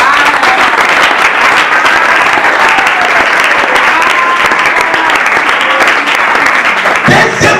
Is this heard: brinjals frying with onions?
no